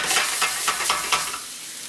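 Marsala wine sizzles steadily in a hot pan as its alcohol cooks off, a bright continuous frying hiss with a few soft stirring swells, close and alone with no voices.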